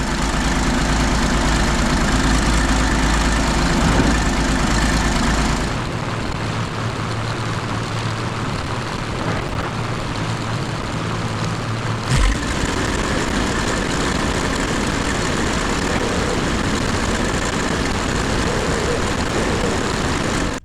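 A 1959 International dozer engine runs with a steady, heavy drone while struggling in reverse, its tone shifting abruptly partway through and again near the middle, loud and continuous without talk.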